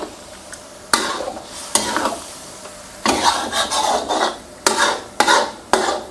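A spoon scrapes and stirs chicken panang curry around a pan in bursts, with sizzling cooking underneath and a few metallic knocks against the pan.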